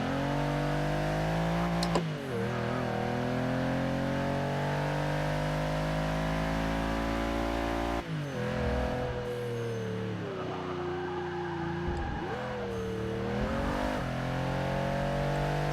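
Range Rover engine in the Forza 6 racing game, a loud droning engine sweeping up and down through gears, with shifts and revs rising and falling, a sharp drop near the start and again midway, no talk.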